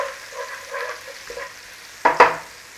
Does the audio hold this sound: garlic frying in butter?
yes